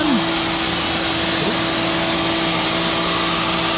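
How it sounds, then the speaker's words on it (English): A shop vacuum roars steadily in a workshop with a router and other tools running. The loud, constant whine has a mechanical hum underneath and no pauses. "The vacuum's on."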